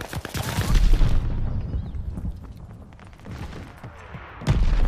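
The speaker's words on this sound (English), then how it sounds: "They're sending mortar shells!" Mortar shells exploding in an online shooter game, a burst of heavy booming blasts and rapid crackling fire up front, fading into a quieter rumble before another loud thump at the end.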